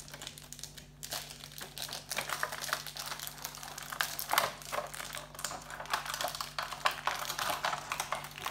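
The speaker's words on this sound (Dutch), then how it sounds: "Zal ik het zakje openmaken?" A small plastic bag is opened with quiet, continuous crinkling and rustling, soft close handling with scattered sharper crackles.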